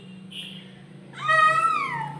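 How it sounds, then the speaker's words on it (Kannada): A cat gives one drawn-out, falling meow near the end, fairly quiet over a steady low hum, with no talking. "ಬೆಕ್ಕು ಬೆಕ್ಕು ಬೆಕ್ಕು"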